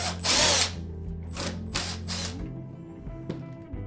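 A power drill removes bolts from a fan blower assembly: one loud whirring burst opens, followed by three quick shorter bursts and a faint final one, close up in a quiet space.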